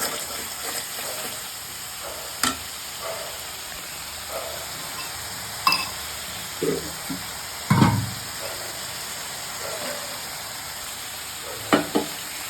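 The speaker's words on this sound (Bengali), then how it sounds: "মশলাটা ততক্ষণ কষাবো যতক্ষণ তেল মশলার গায়ে থেকে ছেড়ে না দেয়" Spice paste for a taro (kochu) dish frying in oil in a pan, with a steady close sizzle and occasional scrape-and-stir knocks from a spoon, no voices.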